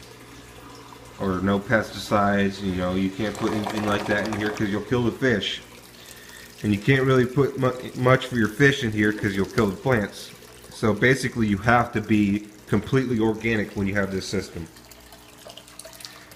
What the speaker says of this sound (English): And what these bell siphons do is they allow the water to flood and to drain